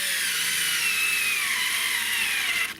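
A Fanttik NEX L1 Pro power screwdriver at maximum torque drives a screw into wood with no pre-drilled hole, giving a loud, steady high-pitched motor whine that holds for nearly three seconds and then cuts off abruptly.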